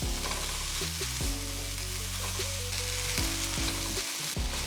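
Cabbage and other vegetables stir-fry in a pan, giving a continuous loud sizzle under the tonal hum of cookware, with stirring scrapes throughout.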